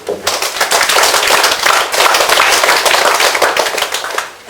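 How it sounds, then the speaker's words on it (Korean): Brief burst of audience applause welcoming a speaker at a peace forum on religion and food culture, dense close clapping rising quickly and holding strong for a few seconds before fading. "박수로 환영해 주시죠"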